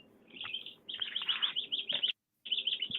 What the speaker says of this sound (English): Lovely chirping.